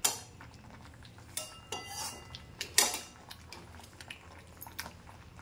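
Fried rohu fish pieces dropped into a pan of reduced onion gravy, with a sharp metallic clatter at the start and scattered clinks and scrapes of utensil against pan, fairly quiet and close.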